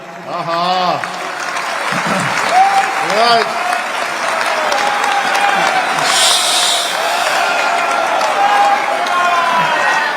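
An audience at a Holi kavi sammelan poetry event applauds loudly, a dense sustained clapping that carries on throughout, with voices calling out over the clapping.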